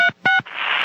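Telephone being dialed to call a toy parts shop: two short tone beeps, then a steady buzzing line tone, close and clear with no voices.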